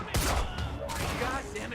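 Enemy gunfire in the shooter game Quantum Break crackles in dense, overlapping bursts at moderate loudness, with a voice speaking over it.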